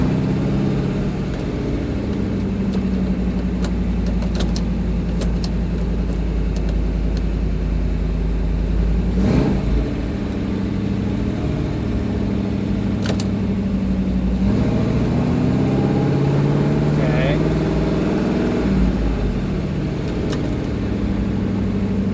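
An old station wagon with transmission trouble and no second gear drives along, its engine droning steadily and rising in pitch several times as it revs. The sound is close, loud and continuous, with no talking.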